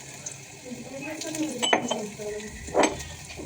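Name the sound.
garlic added to a pan for chilli paneer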